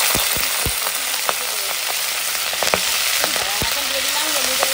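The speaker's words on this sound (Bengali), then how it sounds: "তো এখন তেল পটকাটা ভেজে নেবো" Catla fish swim bladder fries in hot mustard oil in a kadai, a close, loud, continuous sizzle broken by sharp crackles and pops, with no talking over it.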